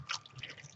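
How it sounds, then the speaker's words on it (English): Small amount of water poured into a container of soil for growing plants, giving a brief, close trickle and drip with soft splashing, quiet and alone. "I'm just going to pour a bit of water in here."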